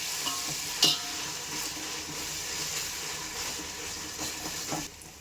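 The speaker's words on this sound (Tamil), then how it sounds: "இஞ்சி பூண்டு போட்டு நல்லா வதக்கிக்கலாம்" Onion, ginger and garlic sautéing in oil for a vegetable biryani, a steady close sizzle with a few sharp clinks of a spoon against the pan and occasional stirring scrapes, no voices.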